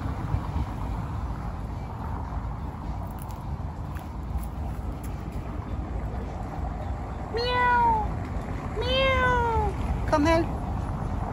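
Cat meowing outdoors in Antalya, Turkey, two or three clear rising-falling meows late in the clip over steady wind and traffic-like background noise; no clear speech.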